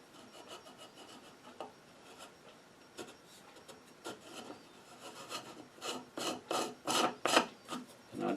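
A wooden dowel is twisted through a wood threading jig, its cutter shaving threads with a dry, rasping scrape, slow at first, then louder and more rhythmic, close by and alone.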